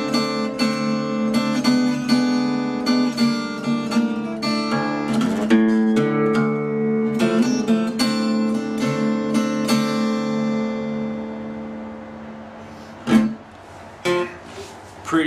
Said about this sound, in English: you're playing a turnaround, this introduction, which is basically a chromatic rundown,